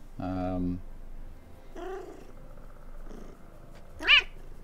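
A pet cat named Dylan meows three times: a long, low, drawn-out call first, a shorter one about a second later, then a sharp, high-pitched yowl near the end. A faint background hum runs between the calls.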